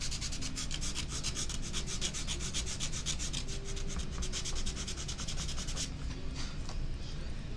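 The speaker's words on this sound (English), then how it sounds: "I'm gonna need my sanding paper for this though." Sandpaper scrubs back and forth with quick, steady strokes in a continuous close-up rasping rhythm, fairly quiet, slowing and fading slightly in the last couple of seconds.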